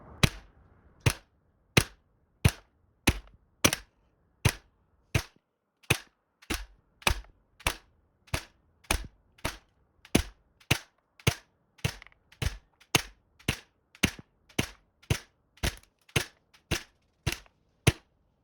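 GHK M4 airsoft rifle firing 0.2 gram BBs on black gas, about thirty sharp single shots in a steady semi-automatic rhythm, each a crisp close crack with a short mechanical clack.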